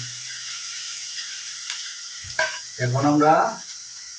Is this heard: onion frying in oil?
yes